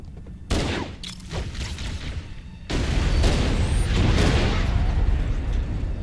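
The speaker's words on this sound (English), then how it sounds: "Whoa, that was a nice grenade." Grenade blast in the Halo: Combat Evolved shooter, a sudden loud boom followed by a burst of gunfire and a second heavy explosion with sustained crackling rumble.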